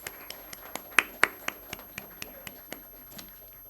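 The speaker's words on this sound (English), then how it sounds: "A big round of applause for CA Mohit sir." Sparse clapping at a professional panel discussion, a thin run of distinct hand claps at an even pace, with a couple of sharper louder ones near the start and the rest tapering off quietly.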